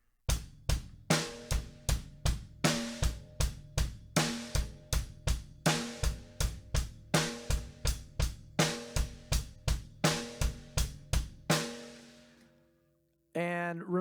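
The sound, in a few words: drum kit 8th note groove, snare on 2 and 4, bass drum every other beat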